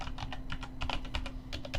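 Rapid, uneven clacking of keys on a computer keyboard, close and fairly loud, with a steady low electrical hum underneath and no voices.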